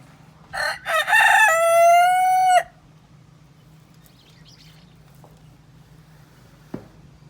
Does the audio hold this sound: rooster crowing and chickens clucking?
yes